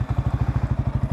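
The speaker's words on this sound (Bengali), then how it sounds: "আমি যদি একটু স্টার্ট দিয়ে দেখাই আপনাদের বা আওয়াজটা শোনাই" A motorcycle with a modified stock exhaust runs at a steady idle, giving rapid, evenly spaced thumping pulses, close and fairly loud, with no talking.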